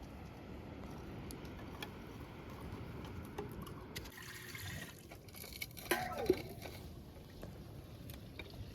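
Water poured into a metal cooking pot before bananas go in to boil, a soft liquid splashing and filling at low level, with a few louder clinks and splashes toward the end.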